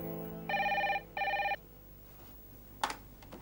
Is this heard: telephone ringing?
yes